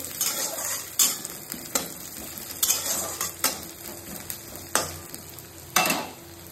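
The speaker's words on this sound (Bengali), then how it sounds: "দিয়ে পেঁয়াজ দিয়ে দিলাম। তো এখন যে পেঁয়াজটাকে কাটলাম ওটাই দিলাম" Chopped onion frying in oil in a pan gives a continuous sizzle, broken by repeated loud scraping and clanking strokes of stirring about once a second, close by with no talk.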